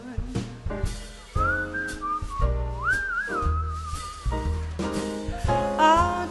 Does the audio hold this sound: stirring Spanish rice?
no